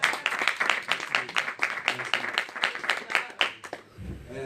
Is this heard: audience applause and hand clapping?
yes